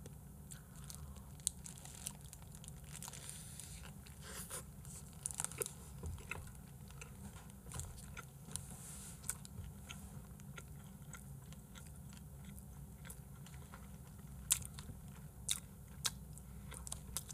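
Someone chews a Burger King Stacker 4 burger close to the mic, with soft repeated bites and crunchy, wet mastication going on steadily and quietly throughout, and no talking.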